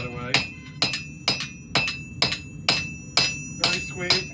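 A hammer forges a khukuri blade on a new anvil in nine evenly spaced, ringing blows, each strike leaving a brief metallic ring before the next.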